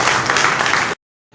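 Audience applause at a Hindi poetry recital held in a tehsil office for the New Year, a loud dense burst of clapping that cuts off abruptly, followed by brief silence.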